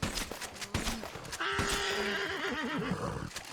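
Within the Western game Red Dead Online, hoofbeats and a snort lead into a loud, wavering horse whinny that rises and trembles for over a second, close and clear against light background noise.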